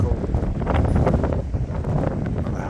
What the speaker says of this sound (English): It's super windy and about 54 degrees